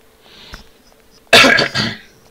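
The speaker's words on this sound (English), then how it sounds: "Turn away for a second to cough" One sharp, loud cough close to the mic, a short harsh burst followed by a brief rasp, after a near-silent pause.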